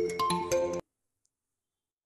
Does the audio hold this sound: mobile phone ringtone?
yes